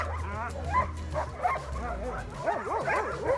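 Several dogs bark and yip outdoors in quick, overlapping bursts, some high and whiny, against a steady low hum.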